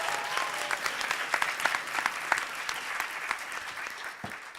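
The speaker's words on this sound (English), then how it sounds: "let's give a round of applause for them" An audience at a YDSA socialist conference applauds with a sustained round of clapping. The clapping is fairly soft and even, with individual claps crackling through, and it tapers off slightly at the end.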